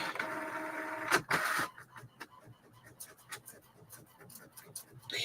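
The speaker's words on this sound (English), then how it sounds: "run the cleaner setting through on my printer" A printer running its cleaning cycle, a steady mechanical whir followed by rapid rhythmic ticking and clicking of the print head, close and moderately loud.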